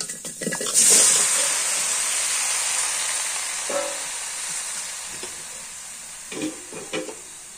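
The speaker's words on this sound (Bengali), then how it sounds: "এই কড়াইয়ের মধ্যে লাউ দিয়ে দিই।" Chopped bottle gourd going into hot oil in a kadai that already held fried prawns, a loud burst of sizzle and steam that slowly settles into a softer hiss, broken by a few spoon scrapes and knocks.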